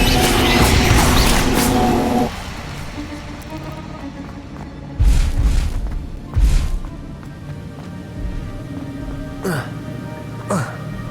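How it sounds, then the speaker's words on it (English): Expelliarmus and Incendio spells are cast in the Hogwarts Legacy video game: a loud rushing magical blast gives way to a steady rumbling bed, broken by several sharp booming impacts and brief crackles. "Expelliarmus! Incendio! Expelliarmus! Incendio!"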